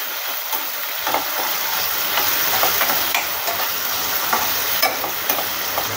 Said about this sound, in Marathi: यामध्ये आपण हे बारीक केलेले टोमॅटो टाकून घेऊया आणि मिक्स करून घ्यायचं।